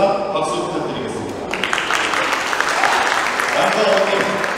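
Wedding guests at the Grand Ostium hall applaud as the two mothers are welcomed, dense clapping that swells partway through and continues steadily, with a voice speaking over it at times.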